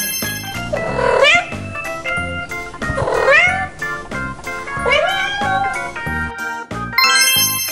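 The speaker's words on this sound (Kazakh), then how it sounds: "Жарайсың, бұл мысықтың дауысы." A cat meows in several drawn-out, rising cries over a backdrop of light tinkling music, each call loud and close.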